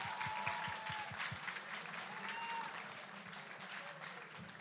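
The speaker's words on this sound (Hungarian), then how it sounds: "Nagy tapsot kérünk szépen az első helyezettünknek." Sustained audience applause at an awards ceremony at a fantasy and cosplay expo, honouring the first-place winner; dense, steady clapping from a crowd, fairly distant, with brief tonal noises above it.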